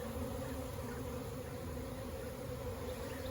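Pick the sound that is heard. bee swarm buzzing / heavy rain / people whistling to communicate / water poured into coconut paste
bee swarm buzzing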